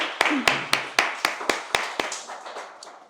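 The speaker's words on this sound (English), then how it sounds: "Round of applause." Sparse clapping at an artist talk, a handful of distinct claps in a loose, fairly regular rhythm, each one sharp and fading quickly, thinning out toward the end.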